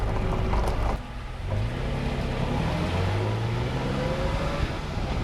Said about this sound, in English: This is a moderate acceleration down the road.